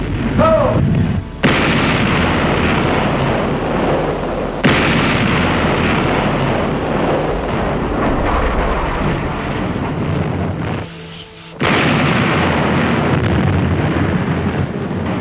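Big guns of the battleship USS Iowa firing a salvo at sea, heard as sharp loud blasts at the start and again at the middle and near the end, each followed by a long rumbling roar with heavy wind buffeting throughout.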